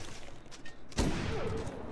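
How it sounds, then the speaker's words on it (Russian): A single rifle gunshot in the survival video game The Long Dark cracks sharply midway through, its echo trailing off over a quiet background. "с него с ружья выстрелили"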